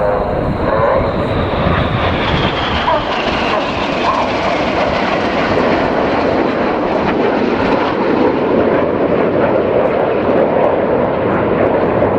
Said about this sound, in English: The left-hand turn with the colour red 1 leading the 7 aircraft off to our right-hand side.